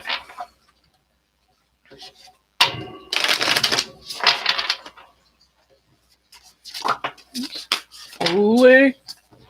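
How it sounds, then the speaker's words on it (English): A deck of tarot cards is shuffled by hand in fast, crisp riffling bursts with sharp flicks and taps, alternating with stretches of a person talking and some quiet gaps. "I'll start shuffling the decks"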